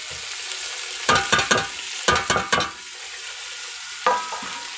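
Tomatoes frying in a pan with ginger and garlic as the base for a crab curry, heard as several bursts of loud sizzling and stirring scrapes in clustered rhythm, with quieter hiss between, no talking.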